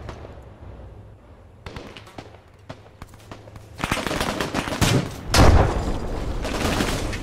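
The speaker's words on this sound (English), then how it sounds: "Machine gunner immediately mows down some people on the street." Machine gun fire in a West German airborne wargame battle, scattered sharp shots building into loud sustained bursts, with a heavy impact near the end.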